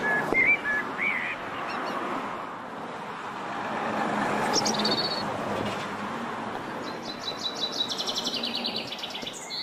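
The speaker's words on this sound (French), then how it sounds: "Le bruit des moteurs gêne les oiseaux qui communiquent en chantant" Songbirds chirp and trill in short bright bursts above a steady, broad rumble of car engines and road traffic, the birdsong thin and partly masked by the continuous motor noise.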